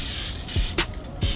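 Bottled Evian water misted onto hair to moisten it, a few short soft spray bursts close by in a quiet room.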